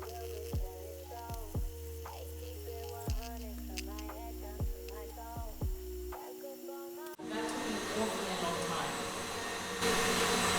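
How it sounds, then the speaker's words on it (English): An electric stand mixer whipping butter starts up partway through, a steady whirring drone after a stretch of tonal, voice-like sounds, continuing close and even until the end. "then you're going to put it in the electric mixer again"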